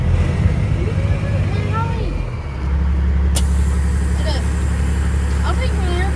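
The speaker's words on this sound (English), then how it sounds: "we're idling with it warmed up at 60 psi" Warmed-up engine in a truck idling at 60 psi oil pressure, a loud steady low rumble throughout, with a shift in tone midway and people talking over it.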